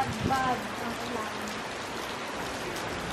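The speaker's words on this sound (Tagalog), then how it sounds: "Ay, maulan. Sobrang ulan." Heavy rain falls outside Chimei Museum as a dense, steady hiss, with a brief voice near the start and the downpour continuing alone.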